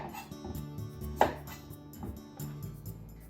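A kitchen knife cuts the ends off a washed sweet potato with the skin on, one sharp chop standing out against a board amid soft handling noises and a low room hum, close by and without talk.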